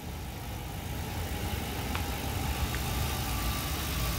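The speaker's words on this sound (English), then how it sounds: "This vehicle has been running for like 40 minutes at idle, running nice and smooth." A 2010 Ford Crown Victoria P71 Police Interceptor engine idles smoothly after running a long while, a steady low rumble with a couple of faint brief ticks, no talk.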